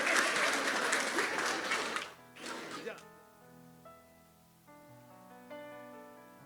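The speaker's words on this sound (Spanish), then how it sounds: "Denle un aplauso al Señor." Applause from a church congregation for about two seconds, then a brief second burst, fading as a sustained organ-like music continues underneath.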